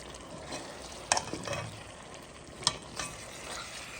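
Salted pork tail and potatoes being mixed in a pot in Réunion style, with a steady low sizzle under a few sharp utensil clacks against the pot and soft scraping stirs.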